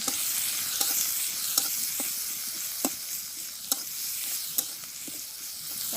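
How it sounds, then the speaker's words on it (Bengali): Onion and chili with a little salt and turmeric frying in a pan, a loud, continuous hiss of sizzling oil punctuated by regular clicks of a spoon stirring. "পেঁয়াজটা সুন্দর করে ভাজি করে মিশিয়ে দেবো"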